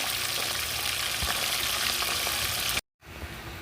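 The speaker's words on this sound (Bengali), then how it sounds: "এবার আমি মাছটা ভেজে নিচ্ছি সুন্দর করে তো আগে মাথাটা দিয়েছি মাথাটা ভাজছি" A fish head frying in plenty of hot oil, a loud, dense, steady sizzle that cuts out briefly near the end and then resumes.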